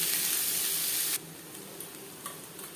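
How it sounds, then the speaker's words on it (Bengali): Chopped onions frying in a little oil in a pan, a loud steady sizzle that abruptly drops to a quieter crackle partway through, with a few light stirring ticks. "চার পাঁচ মিনিট পেঁয়াজ ভেজে নেওয়ার পর"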